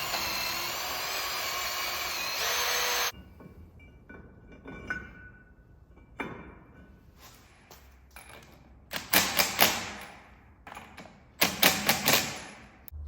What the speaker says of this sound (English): So I'm gonna go ahead real quick with this wire brush and clean up the mating surface